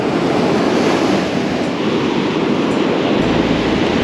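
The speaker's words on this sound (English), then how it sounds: "These waves are actually picking up. There's some quite big ones here." Ocean waves break on a beach as the tide comes in, with big sets rolling through at a surf-jigging fishing spot. A loud, continuous roar of surf fills the whole stretch, with no one speaking.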